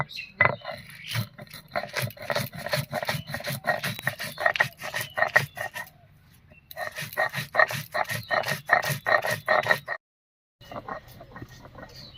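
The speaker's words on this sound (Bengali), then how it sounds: "এবার সব কিছু একসঙ্গে করে বেটে নেব" Mustard seeds, poppy seeds, green chilies and salt being ground into a paste by hand on a stone, a fast rhythmic rasping scrape that keeps on, pauses briefly and then resumes.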